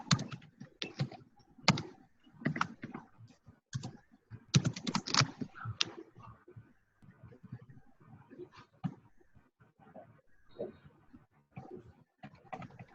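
Keys clatter on a computer keyboard while code is written for a database connection in a web.config file, bursts of close, irregular clicks with short pauses, growing sparser and softer toward the end.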